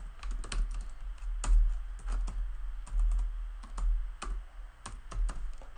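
Rapid typing on a computer keyboard, with quick bursts of sharp clicking keystrokes and short pauses, close and clear with no talking.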